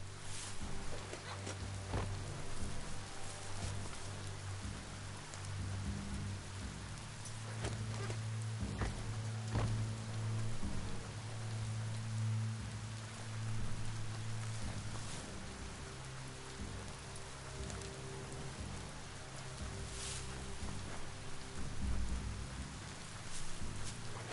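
Steady rain pours down in the video game Biomutant, a continuous dense hiss of drops on surfaces with a low rumbling undertone, even and moderately loud throughout with no talking.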